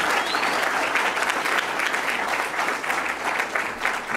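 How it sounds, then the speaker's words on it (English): Steady, full applause from a seated audience at a talk by a state treasurer, many hands clapping loudly and evenly for several seconds with no speech above it. "Let's give Treasurer Frerichs a big round of applause."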